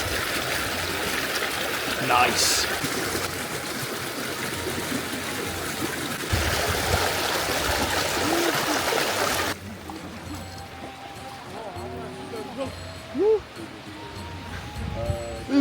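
Hot spring water flows in a park in Turkey, a close, steady rushing trickle that softens partway through, while a voice speaks briefly and other faint voices sound.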